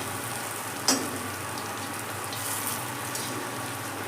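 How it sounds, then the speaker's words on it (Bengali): Steady, hissing sizzle of masoor dal (red lentil) fritters frying in hot oil over a high gas flame, continuous and fairly close, with a single sharp clink near the start. "এই সেকেন্ড ব্যাচের বড়াগুলো ভেজে নিলাম উল্টে পাল্টে"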